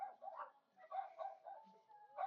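A small dog yips and whines in short bursts, close by, with brief pauses between the high-pitched sounds.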